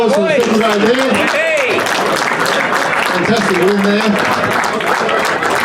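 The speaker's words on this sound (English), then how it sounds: "Big round of applause for the second grade there." Crowd applause and cheering at the opening of the Ted Stockdale Pavilion at Rothwell Park, a rugby club ground, for the Briars second grade team, steady and full throughout with someone talking over it on a PA.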